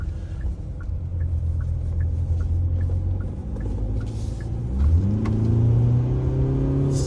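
A Kia Tasman pickup accelerating on the road in eco mode, its engine a steady close rumble that rises in pitch as revs climb, with a rhythmic ticking running through the first half and no talk over it.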